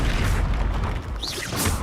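Confringo blast spells burst in the Hogwarts video game, a dense, loud rumbling explosion with crackling debris and bright whooshing effects.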